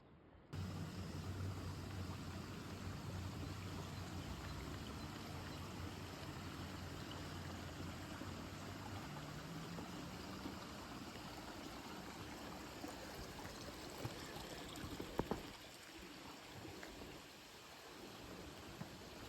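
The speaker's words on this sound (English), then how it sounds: "and Flowers Brook, the stream just down there" Flowers Brook, a stream near Ventnor on the Isle of Wight, flows with a steady broadband rush heard at a moderate distance, with no talking and a low rumble that fades partway through.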